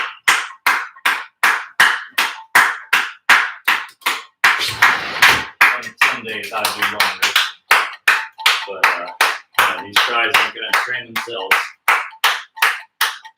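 Sharp hand claps repeat in a steady, rapid rhythm, close and loud, while a person talks over part of the sequence.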